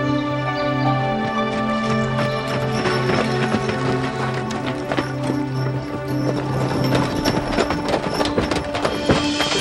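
Steady clip-clop of draft horses' hooves on a hard surface, a continuous walking rhythm with a low droning tone running underneath.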